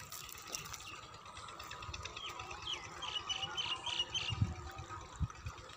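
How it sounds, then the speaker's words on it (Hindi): Canal irrigation water pours steadily into a sugarcane field outdoors, a continuous low rushing wash with birds chirping faintly over it and no talk. "यह भी लगा हुआ है गन्नू के खेत में पानी।"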